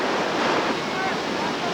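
Whitewater river rapids as a raft rides out the tail waves, a dense, continuous rush of churning water at close range, steady and loud with no breaks.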